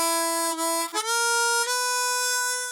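A short chromatic harmonica blues phrase in E, tuned to C, of a few bright, reedy notes with bends and slides, played alone and clearly up close.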